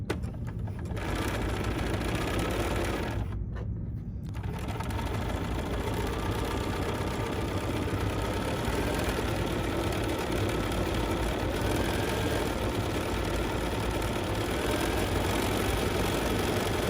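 An embroidery sewing machine stitches sample fabric with a fast, steady mechanical whir and patter, briefly stopping twice near the start before running on continuously.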